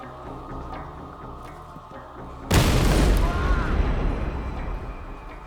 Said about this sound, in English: The explosion seriously wounded him and tore off his fingers